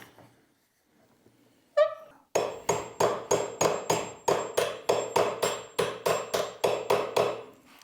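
A hand saw pounded down into the kerf of a walnut board held in a vise, a single clang followed by a steady series of about sixteen sharp, ringing blows, close and loud.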